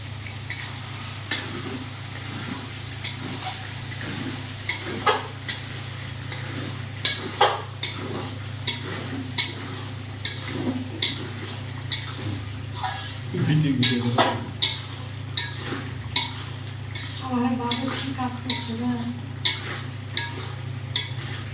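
Braised mutton for kacchi biryani stirred in a pot, with repeated spoon scrapes and knocks against the metal over a low steady hum, faint sizzling and some background voices.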